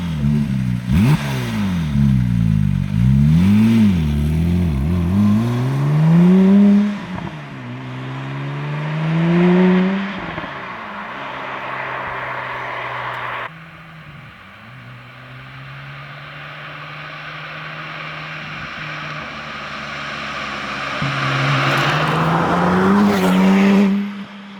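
A tuned 800+ hp Porsche 997 GT2 with upgraded clutch accelerates hard on a drive, engine rising and falling through several loud gear pulls, with brief tire squeal, then settling to a steady cruise before revving up again.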